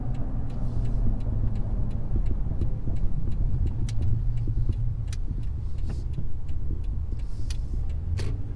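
A vehicle towing a trailer drives along with a constant low road rumble and engine drone, punctuated by regular light ticks and rattles, steady and close from inside the cab.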